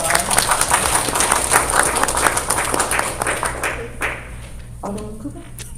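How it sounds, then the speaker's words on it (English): A round of applause at a town board of aldermen meeting, lively clapping from the room for about four seconds before it tapers off into scattered claps and background murmur. "I think that deserves a round of applause."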